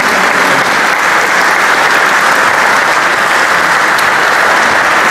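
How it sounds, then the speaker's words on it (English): Loud, dense audience applause fills a hall at a KTM e-mobility talk in Austria, a continuous roar of clapping for the panel that stays level throughout. "Big applause for them."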